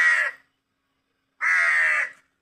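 Two loud, harsh caws from a nearby crow, separated by more than a second of silence, with nothing else audible.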